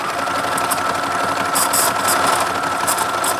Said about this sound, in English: Lock that in again and continue on sewing.